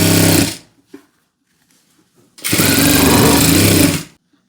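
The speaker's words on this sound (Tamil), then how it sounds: "இப்போது எலாஸ்டிக்கு மேலே தையல் போடுறோம். இந்த நடுவில் தையல் போட ஆரம்பிக்கிறோம்." Sewing machine stitching over elastic on a pair of pants, two loud bursts of rapid mechanical whirring, one short and one longer, separated by a quiet pause.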